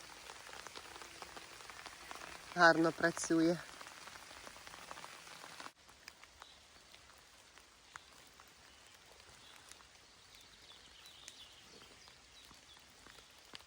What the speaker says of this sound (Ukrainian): Дощик так гарно капає.